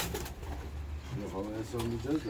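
Pigeons coo in a loft, with a few soft, rolling coos rising over a background of rustling and low voices talking nearby.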